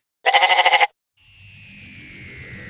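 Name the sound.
goat bleating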